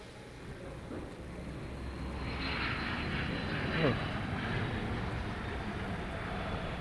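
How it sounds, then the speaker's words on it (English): A distant aircraft takes off, a broad engine roar that slowly builds and lingers outdoors while a person speaks nearby. "Hearing an aircraft just go off,"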